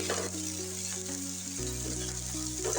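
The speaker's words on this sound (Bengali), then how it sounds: "পেঁয়াজ আর রসুনটা আমি ভালো করে তেলের সাথে নেড়ে চেড়ে ভেজে নেবো" Chopped onion, garlic and green chilli frying in hot oil, a steady close sizzle with a tonal hum underneath.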